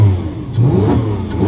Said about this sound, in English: it'd be rude, I think, not to give this a couple of revs.